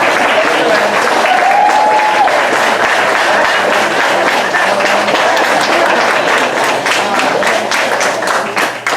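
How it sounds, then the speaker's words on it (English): Audience at an alumni banquet applauding the caterers, loud sustained clapping from a large crowd that tapers slightly at the end. "Can we give them a round of applause, please?"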